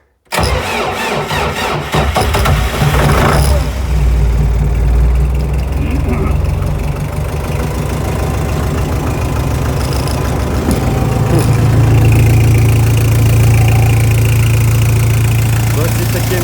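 Newly bought Chinese inverter generator in freezing frost cranks and catches within a few seconds, then runs steady and loud for the rest, its engine note shifting partway through; a voice speaks briefly over it.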